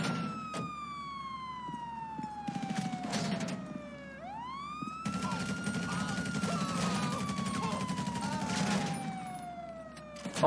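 Gunfire crackles in GTA 5 during a police shootout as a sheriff, with a few sharp bursts of shots under a loud wailing police siren that sweeps up and down throughout.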